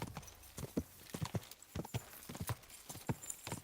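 Hooves of a horse in the video game Kingdom Come: Deliverance 2 clip-clop in a quick, uneven rhythm of sharp knocks, fairly close and loud, with a faint background hum and no talking.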